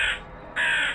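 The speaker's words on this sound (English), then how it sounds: "hearing a crow in the room" A crow caws inside a room during an animated Halloween story: two loud, harsh caws separated by a short pause, heard alone with no talking.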